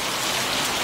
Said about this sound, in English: We've been forced to stop because of the rain